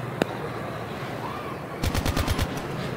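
Gunfire in the mobile shooter game Call of Duty: Mobile: one lone shot, then a rapid burst of about seven automatic rounds near the end, over steady low background noise.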